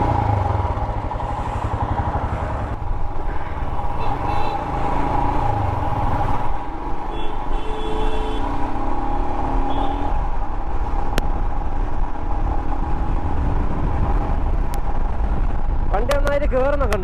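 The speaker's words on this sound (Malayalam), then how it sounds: "വണ്ടി നന്നായിട്ട് കയറുന്നൊക്കെ ഉണ്ട് കേട്ടോ" A Royal Enfield Himalayan 411 motorcycle engine pulls strongly while being ridden, a steady close droning rumble with some clatter and rising tones near the end, running continuously under wind noise.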